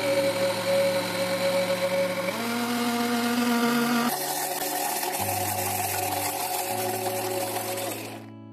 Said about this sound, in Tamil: இப்போ மிக்சியில் எல்லாத்தையும் போட்டு நல்லா ஸ்மூத்தாக ஆகிற அளவு பிளெண்ட் பண்ணிக்குவோம்